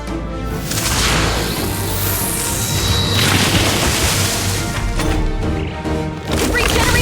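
A fire spell attack in Metaphor ReFantazio lands as a loud, dense roaring blast with a sweeping whoosh. It sustains for several seconds with crackling impacts, then dips briefly and surges again.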